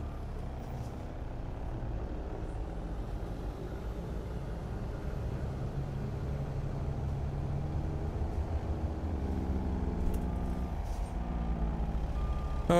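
Semi truck slowly maneuvering a trailer into place in American Truck Simulator, a low steady diesel idle and rumble that builds slightly, with faint beeps near the end and no voices.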